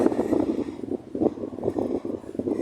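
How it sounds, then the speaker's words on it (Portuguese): A cold wind blows outdoors at sunset, gusting in uneven, rough buffets against the microphone, with low rumbling surges and no speech. "Um vento gelado, meu povo. Tá ventando."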